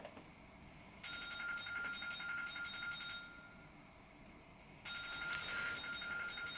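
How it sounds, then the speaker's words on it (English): An indoor telephone rings in two long electronic bursts separated by a short pause, fairly faint and somewhat distant, with no talking over it. "So the phone is ringing"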